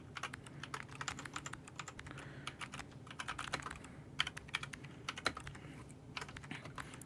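Fast, uneven clatter of keys on a computer keyboard, typed continuously with sharp clicks and louder keystrokes standing out, close up with no talking.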